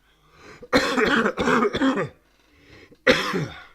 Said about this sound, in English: As I cough straight onto the stream.